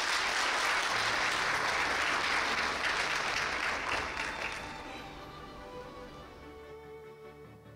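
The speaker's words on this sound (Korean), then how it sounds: "여러분 큰 박수로 맞이해 주십시오." Audience clapping at a Korea University 118th anniversary ceremony: a dense, loud round of applause from a large crowd that holds steady for several seconds, then gradually thins and fades out.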